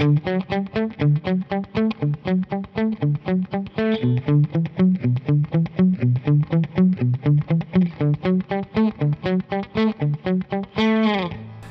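Dry electric guitar part with the delay muted, a rhythmic run of clipped, evenly spaced picked notes with a slightly overdriven tone, loud and close, ending on a sustained chord.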